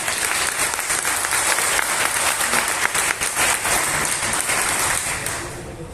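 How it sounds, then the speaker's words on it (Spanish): A church congregation applauds during a Spanish-language sermon, a full, continuous wash of clapping from many hands that stays loud and even throughout before tapering slightly at the close. "Un aplauso al Señor."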